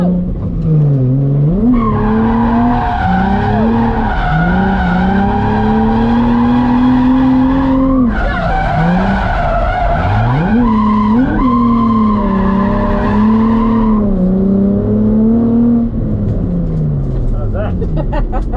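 Several drift cars run three-car tandems at a birthday drift event, their engines roaring loud and continuous with wavering pitch as tires squeal through the slides, the sound steady throughout.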